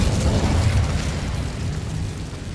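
An Incendio fire spell bursts in Hogwarts Legacy as a dense, loud rumbling whoosh of flame that starts strong and slowly tapers over a couple of seconds, with no speech over it.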